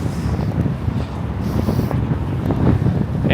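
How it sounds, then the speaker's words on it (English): Strong gusty wind buffets the microphone on a New York City street along 5th Avenue, a loud continuous low rumble with fluctuating gusts and no talking. "Man, it's quite windy."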